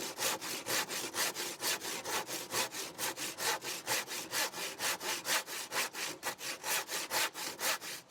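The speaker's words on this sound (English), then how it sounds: "Now we get cutting. Now I'm not removing a lot. It's literally just a small section, and my trusty handsaw should be more than enough." A handsaw cuts through wooden slats for a garden trellis frame in steady, rhythmic strokes, each rasping pass close and loud, about three strokes per second continuing without pause.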